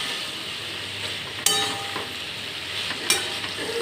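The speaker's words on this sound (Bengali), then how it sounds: "দিয়ে এটাকে একটু আরেকবার নাড়িয়ে দেবো।" Malabar spinach curry with fish head being stirred in a pan, a steady close sizzle with two sharp scraping stirs of the spoon against the pan.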